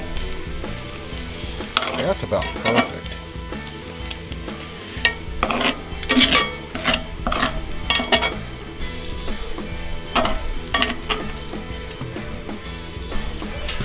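Bacon sizzles and crackles loudly in a hot pan, with occasional utensil scrapes and a brief spoken remark over the frying.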